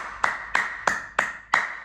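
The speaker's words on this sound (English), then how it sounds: "Now clap." Five sharp hand claps at an even, unhurried pace, close and crisp, each with a short ringing tail and nothing else audible.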